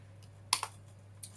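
Keys on a Panasonic CF-19 Toughbook laptop keyboard are typed in a few soft, sharp clicks, with a quick pair and one later tap over a faint steady hum.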